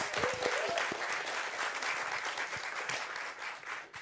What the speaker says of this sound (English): And a round of applause for these guys, please.